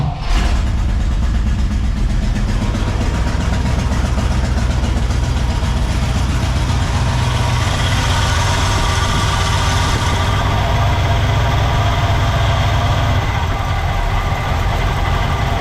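A 1964 Pontiac Catalina barn find, revived after more than 30 years, idles steadily and loud up close, its rough engine rumble continuous throughout with no talking.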